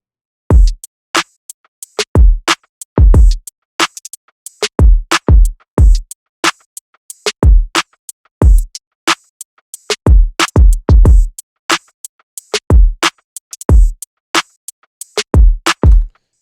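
A programmed beat with bells plays dry after the reverb is taken off its instruments. Punchy, separate hits ring out in a steady groove with short silences between them, loud and close, with no talk.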